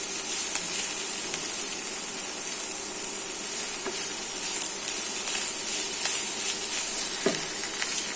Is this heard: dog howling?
no